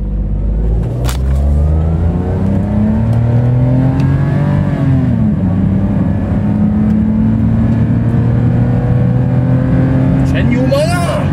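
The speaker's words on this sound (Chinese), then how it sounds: "放 brake 全油门下去就看它的时间多少。" Perodua Axia car launching at full throttle in a 0-100 km/h test, engine rising loud and close through revving gear pulls with a brief drop at a shift, while a person talks over it.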